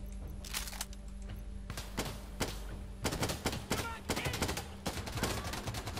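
Bursts of automatic gunfire from the Insurgency video game, rapid repeated shots in several clusters over a steady background hum, fairly loud and close, with no talking.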